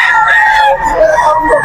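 Roosters and chickens at a Friday poultry pet market in Bocaue, Bulacan, a loud, close drawn-out crow over the noisy crowded background of the market.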